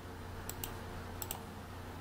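A computer keyboard is tapped lightly, four faint, sharp key clicks in two quick pairs over a low steady hum.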